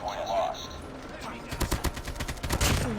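An AK-47 in the video game Call of Duty Mobile fires a rapid, loud, close burst of automatic shots, preceded by quieter game sounds, with a voice talking over the gunfire.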